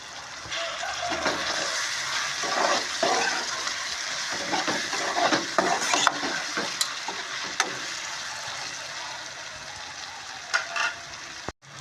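A loud, continuous sizzle of soaked cashew nuts frying with softened onions in a pan, broken by repeated scraping and clicking as they are stirred, with a sharp clank at the end.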